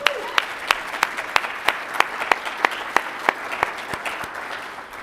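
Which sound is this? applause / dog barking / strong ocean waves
applause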